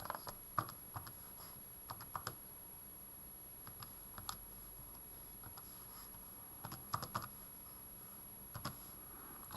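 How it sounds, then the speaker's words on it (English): Calculator keys tapped in short bursts of quick, light clicks, with quiet pauses between groups, close and faint with no talking. "And then type it into your calculator once more."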